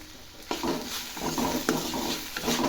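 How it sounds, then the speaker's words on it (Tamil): Onions and salt are stirred in a pan with a spoon scraping repeatedly through a steady sizzle; scrapes and clinks recur every half second or so, close and moderately loud, with no talk. "இப்போ உப்பு சேர்த்தாச்சு நல்லா கலந்துடணும்"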